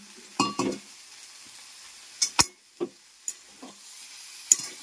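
Drumstick (sajne) flowers being stirred into a pan for a Bengali curry: a faint steady sizzle under several sharp scrapes and clinks of a spoon against the pan, close by, with no talking.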